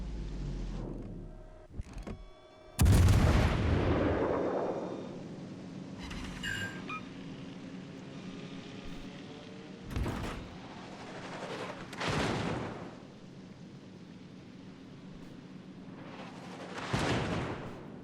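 Warship guns from World of Warships Legends fire in a heavy booming volley, followed by a long rumbling roar and a few further distant blasts spaced several seconds apart.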